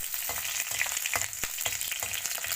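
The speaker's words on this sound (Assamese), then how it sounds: "এতিয়া পিঁয়াজটো অকণমান ভাজিম, ব্ৰাউন কালাৰটো উঠক" Chopped onion fries in an oily pan for an Assamese leafy-greens dish. A steady close sizzle runs throughout, broken by short clicks and scrapes of stirring, with no voices.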